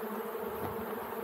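Honeybees shaken from a hive frame into another hive make a dense, steady buzz that stays close and constant throughout, with no voices.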